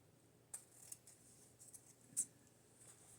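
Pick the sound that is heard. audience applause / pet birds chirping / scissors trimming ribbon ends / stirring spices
scissors trimming ribbon ends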